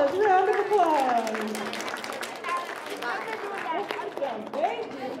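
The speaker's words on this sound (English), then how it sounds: "Round of applause." Congregation applause for volunteers during a church worship service, scattered clapping mixed with a loud excited voice and crowd chatter, the clapping fairly close and uneven throughout.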